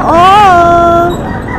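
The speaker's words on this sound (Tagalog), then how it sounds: "Panalo tong manok na to." A two-year-old Black Henny rooster in Grotto, Bulacan gives a single loud, close crow, a drawn-out tonal call that rises briefly and then holds steady before trailing off.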